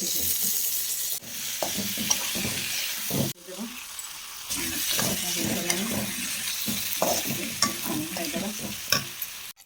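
Desi chicken sizzles and fries in a pan while being stirred, giving a steady hiss with scraping strokes and short breaks, and a voice talks faintly underneath.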